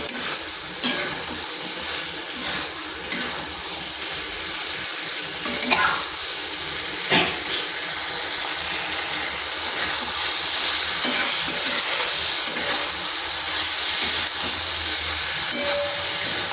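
Spiced potato and pointed gourd curry sautés in a pan, a steady close sizzle and hiss with repeated scraping stirs throughout.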